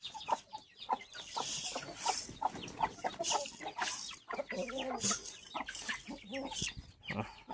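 Chickens clucking steadily, a flock of hens and fowl nearby with repeated short clucks and calls in an irregular rhythm, fairly quiet with no talking.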